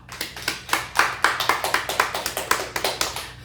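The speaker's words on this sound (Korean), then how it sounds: "우리 박수 한번 합시다." Church congregation clapping in a Baptist church service on Christmas Eve, a fairly quick rhythmic run of distinct claps from a small group, close and clear, with no talking over it.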